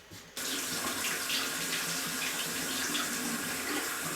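A bathroom faucet runs steadily into a sink with a broad, constant splashing hiss after a brief softer start, close and alone without talk.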